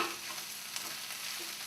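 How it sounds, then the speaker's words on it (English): Quiet, steady sizzling of fried rice in a pan, with soft scraping as it is stirred around, close by. "so let's stir this around."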